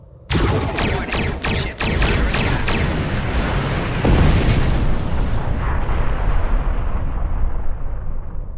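A rapid string of about eight sharp blasts from the Star Trek Online video game, then a sustained, roaring explosion rumble that swells and slowly fades, loud and close.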